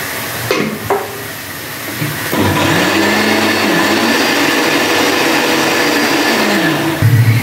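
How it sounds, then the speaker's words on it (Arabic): Electric blender whipping tahini at home, a loud steady motor whir starting after a couple of knocks and rising into a continuous drone that shifts pitch as the thick paste churns, running to the end. "وكده انا ضربت الطحينه اهو"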